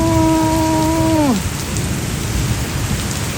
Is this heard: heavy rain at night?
yes